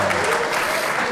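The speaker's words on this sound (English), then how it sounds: "Clap it up." A podcast audience gives a brief burst of loud, close clapping, with a voice speaking over the applause.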